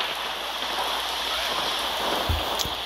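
Rain falls steadily in a Roblox game, a dense even hiss filling the clip with a faint low thump near the end.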